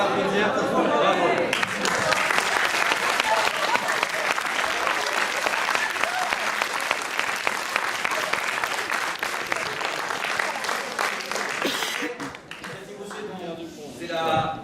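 An audience bursts into sustained, dense applause after a school theatre workshop performance at the Villaroy lycée, loud and close, holding steady for several seconds before thinning out, with a voice speaking near the end.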